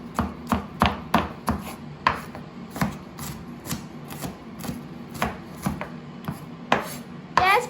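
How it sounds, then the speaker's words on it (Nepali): A knife chops onion on a cutting board in a steady series of crisp, close taps, heard alone. "प्याज पनि काटिसक्यौँ हामीले।"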